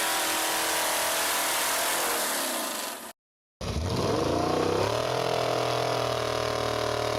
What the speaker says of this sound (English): Want to see a chainsaw monster? Check out this beast with a V8 engine.